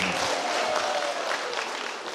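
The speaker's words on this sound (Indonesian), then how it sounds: "Tepuk tangan dari kami." Steady applause from a church congregation, dense clapping that holds for a couple of seconds at moderate volume.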